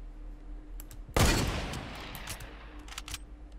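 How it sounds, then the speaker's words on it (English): Distant gunfire in the video game Fortnite, a single sharp shot that rings out with a decaying tail, followed by fainter scattered pops far off. "they're shooting at someone even farther north"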